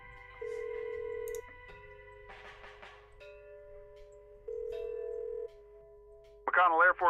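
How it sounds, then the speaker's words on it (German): Telephone dialing in the video game Kathy Rain: a steady tone, then short bursts of dial tones and a ringing tone, ending in a loud ringing burst, all fairly quiet. "jetzt kann ich nämlich das Telefon verwenden"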